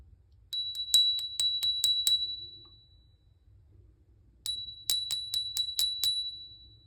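A phone ringtone that mimics a bicycle bell: two bursts of about seven quick, bright dings each, separated by a few seconds of near silence. The rings are close and clear.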